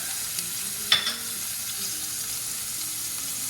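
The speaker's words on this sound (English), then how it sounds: "Now, in the other pan, we've got our olive oil going. We're gonna start with a little bit of our onion" Chopped onion frying in olive oil in a pan gives a steady, soft sizzling hiss, with a brief utensil clatter early on and no talking.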